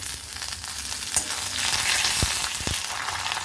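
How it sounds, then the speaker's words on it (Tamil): Mustard seeds, peanuts and dried chillies sizzle steadily in hot oil for tamarind rice tempering, a dense continuous frying hiss with a couple of sharp crackling pops near the end, close and alone. "எண்ணெய் சூடானதுக்கப்புறம் இதில் கொஞ்சமாக கடுகு சேர்த்துக்கிறேங்க. அடுத்து நிலக்கடலை சேர்த்துக்கிறேன். காய்ந்த மிளகாய் சேர்த்துக்கிறேன்."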